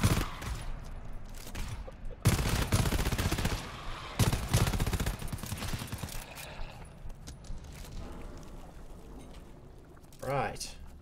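Bursts of rapid gunfire from a squad in the co-op shooter GTFO, crackling over and over amid players shouting and talking, with a brief louder electronic warble near the end.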